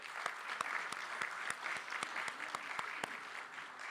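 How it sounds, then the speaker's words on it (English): Applause from a summit audience for a panel of speakers, a sustained wash of many hands with distinct sharper claps standing out, moderately distant and fairly quiet, steady for the whole stretch without voices. "let's give a big round of applause for the panelists again."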